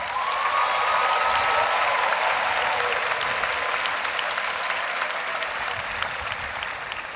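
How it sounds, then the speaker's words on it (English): An audience of university newcomers applauds at a welcoming ceremony, loud, sustained clapping that fills the room evenly from start to finish. "So let's have another round of applause for yourselves."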